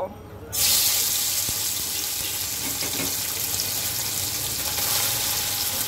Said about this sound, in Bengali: মাছ ভাজার জন্য কড়াইতে তেল গরম হয়ে গেছে, এখন আমি মাছগুলো ছেড়ে দেব।